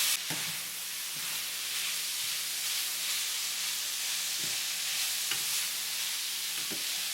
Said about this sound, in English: Stir everything all up.